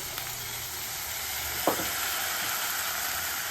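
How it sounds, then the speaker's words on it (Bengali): Kashmiri chili powder, turmeric and coriander powder fry in a hot pan for a spiced eggplant-in-yogurt dish, giving a steady close sizzle with one brief stirring scrape midway and no voices. "আর ধনে গুঁড়ো দিয়ে মশলাটা ভালো করে আমি কষিয়ে নেব।"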